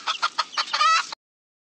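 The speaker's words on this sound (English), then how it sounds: "Hen." A hen clucks close by in a quick series of short, choppy bursts, ending in a drawn-out, slightly raspy cackle before cutting off.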